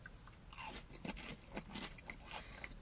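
Crunchy bites and chewing of fried Popeyes butterfly shrimp, heard as a few faint, close crackling crunches over about three seconds, with no talk.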